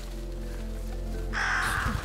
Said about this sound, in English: Get out of here, ravens.